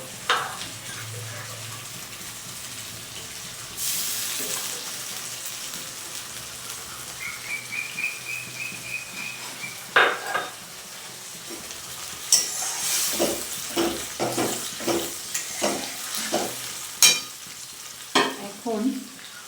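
Water poured into a frying pan while cooking palak paneer, with a loud burst of sizzling followed by repeated stirring scrapes and frying crackle, close by, and a bird chirping faintly in the background.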